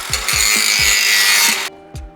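A grinder works on the bodywork of a 40-year-old Porsche, giving a harsh, hissing grind for about a second and a half over low rhythmic knocks, then cutting off abruptly into a short quiet tail.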